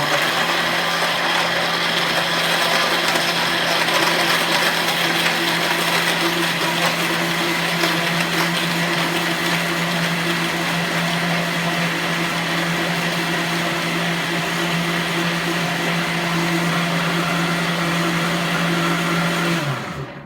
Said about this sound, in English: So in the blender, off we go.